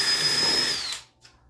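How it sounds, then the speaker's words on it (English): A power drill bores holes in wood on basement stair risers, whirring loudly at close range in a steady high-pitched whine for about a second, then cuts off, leaving a faint clatter. "I'm going to drill 3 holes"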